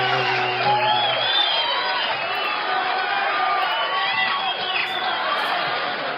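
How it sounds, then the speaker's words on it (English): Audience at a live show cheering, whooping and clapping as a performer is welcomed onstage, a loud, steady crowd roar that holds for several seconds. "So put your hands together for Wency!"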